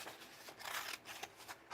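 Scissors cut out a paper character in a mixed-media journaling session, a close run of short crisp snips and papery rustles in quick irregular bursts, without any talk.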